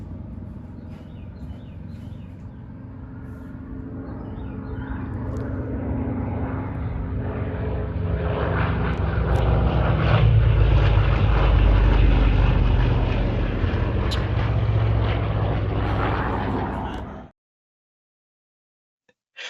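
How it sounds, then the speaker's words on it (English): A Corsair warbird, a propeller-driven fighter plane, flies past, its engine drone swelling from a distant hum to a loud roar at its closest before cutting off abruptly. "Jesse's family's sitting on the beach, and here comes 203, our Corsair, just zipping right by it."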